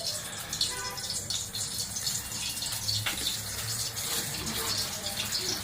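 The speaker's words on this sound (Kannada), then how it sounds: "ಮತ್ತೆ 1-2-3 ಟೇಬಲ್ ಸ್ಪೂನ್ ಅಷ್ಟು ಆಯಿಲ್ ಹಾಕೊಳ್ಳೋಣ." Cooking oil poured into an already hot pan on a stove for restaurant-style palak paneer, a steady close hiss and gushing wash lasting throughout, with faint talk mixed in.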